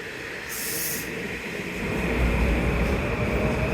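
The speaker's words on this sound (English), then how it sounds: "This is the local train to Stamford, making a lot of stops" Local commuter train to Stamford at its last stop within the city, giving a steady broadband rumble and hiss that swells into low vibration near the end, with a brief high hiss burst early on and no talk.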